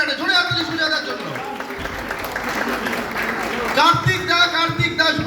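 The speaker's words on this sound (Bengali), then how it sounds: "সুজয় দা আমাদের এডিটর, একটা জোরে হাততালি সুজয় দার জন্য" Applause rises from an audience at a film promotional event for Boomerang's cast and crew, with clapping in the middle and people talking before and after it.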